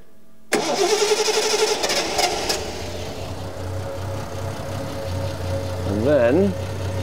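A Triumph TR6 with fuel injection cranks and fires abruptly, roaring loudly before settling into a steady idle, with a voice speaking over it.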